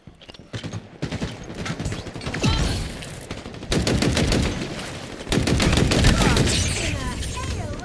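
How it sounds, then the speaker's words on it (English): Rapid bursts of Halo Infinite gunfire crackle in long automatic volleys, growing louder, with faint electronic effects and brief voice-like sounds mixed in. "In a hail of gunfire."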